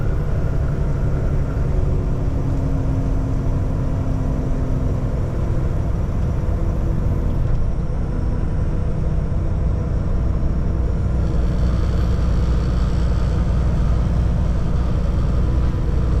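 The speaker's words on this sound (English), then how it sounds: "And I'm Jake braking" A truck's engine brake (Jake brake) holding the rig back on a long downhill grade, a continuous loud low rumble and drone mixed with road and cab noise, steady throughout.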